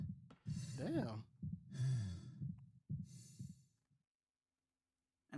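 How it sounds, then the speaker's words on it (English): Three close, heavy sighing breaths and a pained wince from the wounded, worn-out Isaac in the Dead Space remake, spaced about a second apart, followed by silence. "hearing those injured winces, those fatigued breaths mixed in with his regular breathing actually sounds quite natural"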